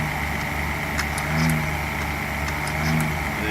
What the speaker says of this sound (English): But you also hear RPMs go up.